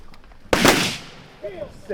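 A single loud, close shotgun blast rings out during an early-season goose hunt in New York, then trails off into a brief decay, followed by faint honking calls and a voice.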